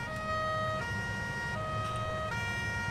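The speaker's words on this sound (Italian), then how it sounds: "Vai, attiviamo le sirene." A steady wailing emergency siren from a Carabinieri escort vehicle in Farming Simulator 19 sounds continuously, its electronic tone stepping between pitches, loud and close, with engine hum underneath and no voices.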